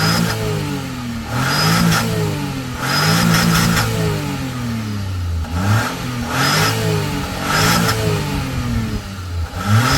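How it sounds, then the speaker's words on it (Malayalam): A restored Maruti Suzuki Alto engine revs up and drops back several times, rising in pitch with a whistling note on each rev, loud and close with no voices. "ഇത് ആക്ച്വലി നമ്മൾ ഇതിൽ ഇൻസ്റ്റാൾ ചെയ്തതിന് ശേഷം റവ് ചെയ്യുമ്പോൾ വാഹനത്തിൻ്റെ ഒരു വിസിലിംഗ് സൗണ്ട് കൂടി കിട്ടുന്നുണ്ട്."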